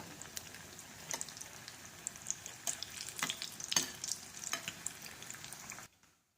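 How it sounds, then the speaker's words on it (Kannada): Chayote bajji coated in gram flour batter deep-fry in hot oil with a dense, continuous crackling sizzle and sharp pops scattered throughout, close and steady before cutting off abruptly near the end. "ಕಾದ ಎಣ್ಣೆಯಲ್ಲಿ ಚಾಯುಟೆ ಬಜಿಗಳನ್ನು ಕರಿತಾ ಇದ್ದೇನೆ"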